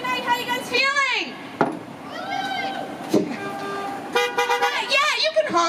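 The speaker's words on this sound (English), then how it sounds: "Yeah, you can honk this one time. Just honk" A car horn toots a few times close by at a Saturday-night comedy gathering in Burbank, mixed with lively chatter and excited voices.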